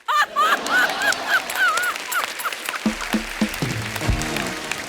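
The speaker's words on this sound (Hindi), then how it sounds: "जोरदार तालियां रवीना जी के लिए।" A studio audience bursts into applause for actress Raveena Tandon, a dense, steady patter of clapping that carries through the whole stretch, mixed with brief chirpy tones and a few short musical stings.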